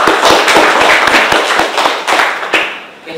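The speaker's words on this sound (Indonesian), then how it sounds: "tepuk tangan dulu ya untuk." An audience in a classroom or presentation setting claps, a close group with distinct sharp hand strikes in a loose rhythm, loud and alone, thinning out at the end.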